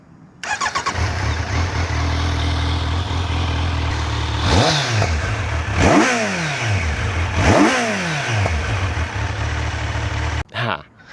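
A Kawasaki Z900 SE motorcycle with stock exhaust idles steadily, then revs sharply three times in quick succession, each rise and fall distinct and loud, with a short burst near the end.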